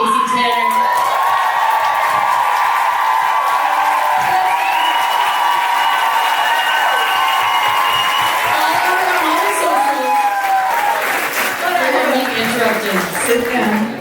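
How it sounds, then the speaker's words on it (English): A live podcast audience applauds and cheers loudly and continuously at a birthday show, with whoops and shouts rising over the clapping near the end. "Can you please give the loudest round of applause ever for Casey Tanner?"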